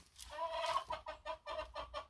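Hens clucking in a backyard coop during an egg check, a run of short, evenly spaced clucks close by with one louder squawk near the start, no talking.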